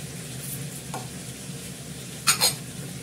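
Meat is stirred and fried in a pot with a soft, even sizzle in the background and two quick metallic scrapes of the utensil near the end. No one talks.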